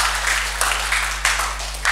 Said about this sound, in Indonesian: Kasih tepuk tangan dulu untuk Tuhan.